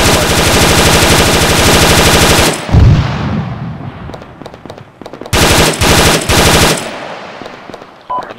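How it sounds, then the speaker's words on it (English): Sustained automatic gunfire in the Arma 3 video game at Myshkino, a long loud rapid burst followed by a pause with distant shots, then two more short bursts and a final single shot. "I'm just firing at something I saw moving."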